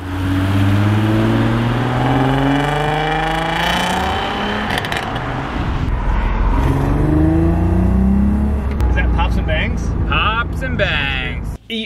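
A loud Scirocco car engine, newly swapped, revs up and holds high, rough and uneven with a slight miss, rising and falling in pitch with voices under it.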